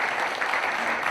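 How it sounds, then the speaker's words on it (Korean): A brief burst of audience applause at a ceremony in Naju, dense clapping from a crowd filling the short moment at an even level. "큰 박수 부탁드리겠습니다."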